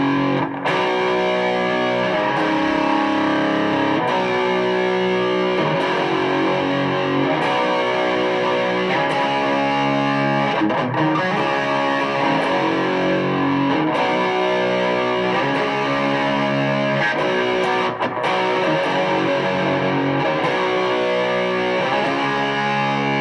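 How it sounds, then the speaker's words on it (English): Electric guitar with heavy distortion plays chords, a loud, continuous, saturated crunch with rhythmic strummed chord changes and no voices throughout. "Come in with your distortion as much as you feel like having."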